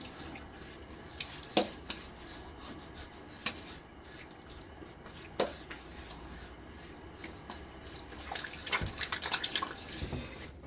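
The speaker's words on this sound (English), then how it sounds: "And so I'm gonna rinse my face." Tap water runs steadily at a sink while a face is rinsed, with a soft continuous flow broken by sharp splashes and drips from cupped hands, growing busier toward the end.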